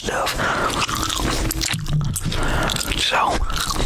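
Close, steady gum chewing in an intense Southern-style ASMR session, with wet smacking, squishing and crunchy bites repeating continuously throughout.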